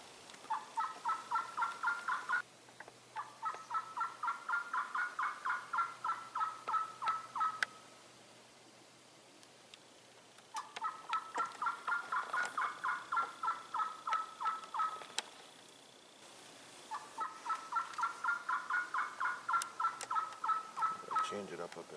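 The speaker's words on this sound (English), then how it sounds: "There we go. Turkey yelps." Turkey yelps from a call played during a predator hunt: rapid, evenly paced runs of clucking yelps in four long bursts, broken by short silent pauses, fairly close and clear.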